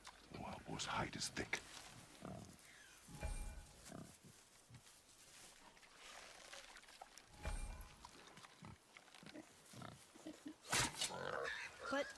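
Grunting and snorting of a boar in God of War, heard in bursts through the clip among game sounds, with people talking over it.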